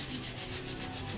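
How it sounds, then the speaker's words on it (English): Powder coat is being sanded off a car's engine bay, a steady, moderately quiet abrasive rasp with a soft back-and-forth rhythm and no voices. "We're gonna sand all this junk ass powder coat off."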